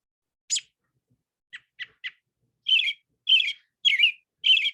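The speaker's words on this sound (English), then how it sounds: "robins have a song and a call, and they don't sing in the winter, but they chatter" American robin winter chatter call: a lone chirp, three short clipped notes, then four louder, harsher chattering bursts in steady succession, close and clear against silence.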